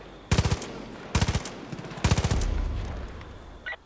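Video-game gunfire from Far Cry 5 aimed at a tower: three loud, rapid automatic bursts about a second apart, followed by a lower, rumbling stretch of sustained shooting and a brief final pop.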